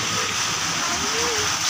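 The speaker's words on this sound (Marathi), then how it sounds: "इथे फॅन आहे आणि ते पाणी पडतं बघ" Water pouring steadily onto the turning wheel of a watermill (panchakki), a continuous broadband rushing and splashing, close and fairly loud throughout.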